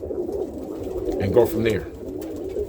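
South African roller pigeons coo softly in a loft, a few low murmuring calls nearby beneath someone talking.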